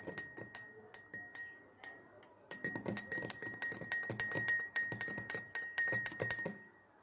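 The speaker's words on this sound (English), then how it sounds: "I am going to pour it into the water. So after let little bit stir it." A spoon clinks rhythmically against a glass while salt is stirred into water, bright repeated taps in quick bursts, a brief pause, then a longer run of steady clinking.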